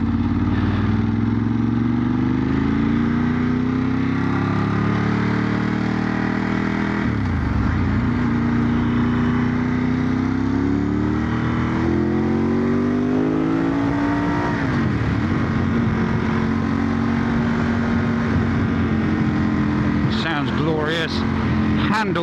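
Ducati 916 motorcycle cruising in second gear around 3,000 RPM at 20–30 mph, a steady droning engine note rising and dipping with throttle, with wind rush and someone talking over it throughout.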